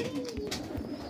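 A pigeon coos softly close by in a brief low burble, with faint background noise.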